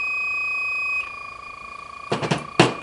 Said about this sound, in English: Yep, sure enough, we're getting an alarm condition and the sensor is responding.